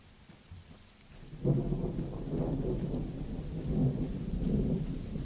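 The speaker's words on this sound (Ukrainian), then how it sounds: "все ще пішов дощ" In the military game Arma 3, a storm arrives: soft rain at first, then a heavy downpour sets in with deep, rolling thunder rumbling through it, loud and continuous.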